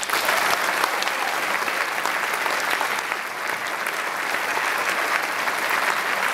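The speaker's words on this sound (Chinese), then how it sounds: "那各位再给大家以自己一次掌声好不好" Audience applause fills a hall at the COSCUP 2013 closing ceremony, a dense, steady wash of many hands clapping that holds at an even level throughout without a break.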